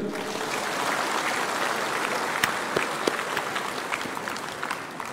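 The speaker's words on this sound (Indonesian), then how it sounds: "Ini tepuk tangan dulu nih." An audience claps at a swearing-in and appointment ceremony for civil servants, steady dense applause from a large crowd that holds for several seconds with scattered sharper claps near the end.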